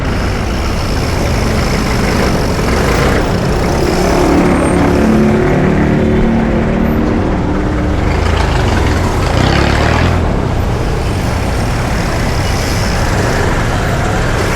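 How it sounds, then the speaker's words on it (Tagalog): Heavy road traffic in Quiapo during Holy Week: a loud, continuous rumble of idling and crawling engines, trucks and buses close by, with swells of passing vehicles and no voices. "super traffic."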